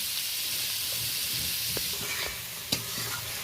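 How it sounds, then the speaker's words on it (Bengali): Onion, tomato and garlic paste sizzle as they are stir-fried in a pan for a prawn and lotus stem curry, a steady frying hiss with occasional scraping clicks of a spatula. "এই সমস্ত কিছু ভালো করে 2-3 মিনিট ধরে নেড়ে নেড়ে পেঁয়াজ টমেটো সুন্দর করে কষিয়ে নেব"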